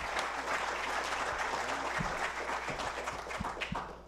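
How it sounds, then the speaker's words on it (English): An audience gives panelists a final round of applause at a Michigan Department of Education event. Steady, dense clapping from a crowd in a room holds at moderate loudness throughout, with a few sharper claps standing out. "let's give our panelists one more big round of applause"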